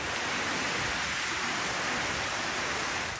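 Heavy downpour on the Fraser Coast of Queensland, a dense, steady hiss of rain that stays loud and unbroken throughout with no other sounds.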